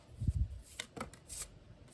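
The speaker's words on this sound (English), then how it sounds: "Let's keep shuffling." Tarot cards being shuffled by hand, a few quiet papery riffles and soft slaps in quick succession, close but faint.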